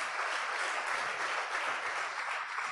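Church congregation clapping together in steady, dense applause at a gospel service, a continuous wash of hand claps with no pauses, loud and close throughout.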